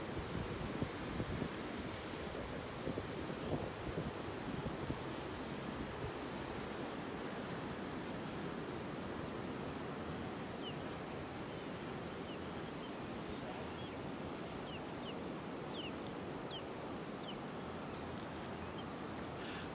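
Ocean surf washes onto a beach in North Naples, Florida, on a morning walk, a steady soft roar with wind buffeting the microphone and no talking.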